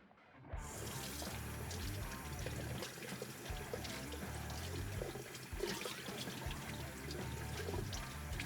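Tap water runs steadily into a sink as hands are washed before an ear piercing, with no talk, a continuous close splashing flow that keeps going after a brief quiet start.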